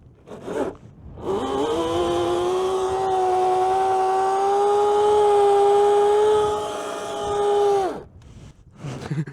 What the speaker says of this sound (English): Let's do a burnout.